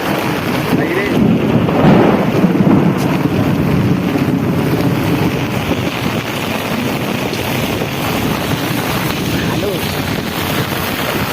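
A loud thunderstorm with heavy rain and gusting wind buffeting the microphone, a dense continuous roar with rolling rumbles that swell early and then settle, with voices faintly present.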